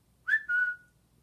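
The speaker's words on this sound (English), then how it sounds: "Whenever the boy whistled," A boy whistles for his dog: a single clear two-part whistle, a short rising note followed by a longer sustained tone, fairly close and alone against quiet background.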